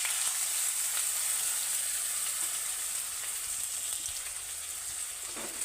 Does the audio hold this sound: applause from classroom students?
no